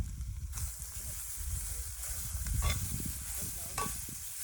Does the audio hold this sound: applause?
no